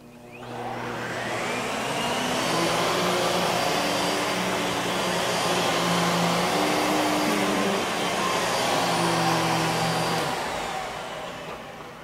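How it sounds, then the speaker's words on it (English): A vacuum cleaner runs across carpet with a loud, steady whirring drone and shifting motor pitch as it is pushed back and forth, starting up at the beginning and fading slightly at the end, with no talking. "First, vacuum dirt from your carpet."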